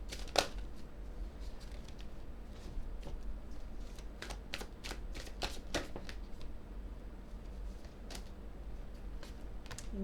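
Tarot cards are shuffled and drawn in a quiet room, producing a run of crisp, close riffling snaps and taps spread irregularly across about ten seconds, soft overall with no talking.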